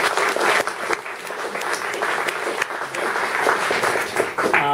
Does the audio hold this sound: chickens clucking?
no